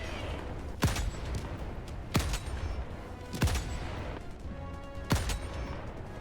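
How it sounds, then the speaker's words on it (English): Gunfire in the Helldivers 2 video game blasts at gunships, with four heavy booming shots spaced about a second apart over a steady rumbling background of battle noise. "I took a prone stance and started blasting."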